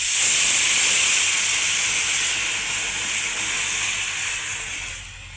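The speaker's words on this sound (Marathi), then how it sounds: "आपलं जे गरम पाणी करून घेतलं आहे ते टाकून देणार मी आता याच्यात" Hot water, already boiled on the stove, is poured into hot masala in a pan while making khichdi. It sends up a loud, steady hiss of steam that holds for several seconds and then eases slightly toward the end.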